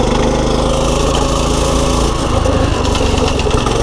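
A small pit bike engine runs loud and steady close by, its buzzy high-revving drone holding constant with slight shifts in pitch toward the end.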